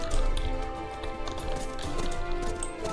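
Horse hooves clip-clopping in the Horse Riding Tales video game, a continuous quick galloping patter with a steady background tone throughout.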